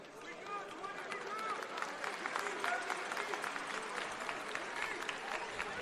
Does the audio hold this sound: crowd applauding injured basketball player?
yes